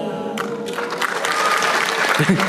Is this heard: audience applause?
yes